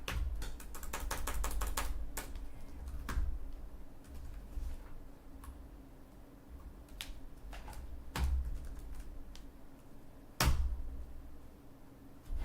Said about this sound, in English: What I'm doing is actually typing in the correct email address I'm sent from.